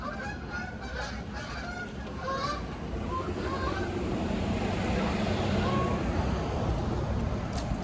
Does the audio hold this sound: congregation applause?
no